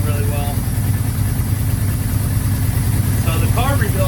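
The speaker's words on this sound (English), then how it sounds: "Now it's idling really well." A 1981 Suzuki GS550 motorcycle with freshly rebuilt carburetors idles steadily and close by, a low, even engine rumble throughout, with a voice briefly heard over it near the end.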